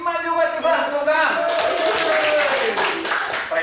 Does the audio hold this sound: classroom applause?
yes